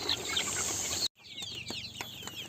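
Chickens on a poultry farm cluck and chatter in a dense, steady flock din that cuts off abruptly, then resumes more quietly with scattered clucks and calls, with no talking.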